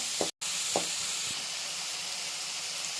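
Onions frying with salt in a hot pan give a dense, steady sizzle close up, cut by one brief dropout and a few soft clinks.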